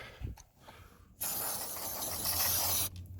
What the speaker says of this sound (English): We can spray a little more in there.